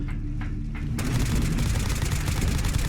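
Dense barrage of 5.56 rifle fire in Fallout 4, a continuous rapid stream of gunshots that grows louder and fuller partway through, close and sustained.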